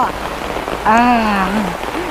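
Rain falling steadily at a riverside tent campsite at Rai Rung Arun in Khao Yai, a constant close hiss of drops on surfaces throughout, with a person's voice briefly rising over it partway through.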